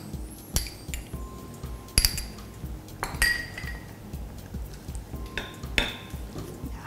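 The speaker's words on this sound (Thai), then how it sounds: "ใส่น้ำตาลลงไปแล้วก็น้ำมะขามเปียกค่ะ" Utensils clink against a pan as sugar and tamarind juice go into a Thai fermented soybean dip being cooked, with several sharp metallic taps and scrapes of stirring spread through the clip, close and moderately loud, no talk.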